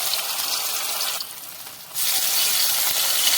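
Onion flowers frying in a small amount of oil in a wok, a steady broadband sizzle that dips briefly in the middle and then swells louder and denser, close up, with no voices.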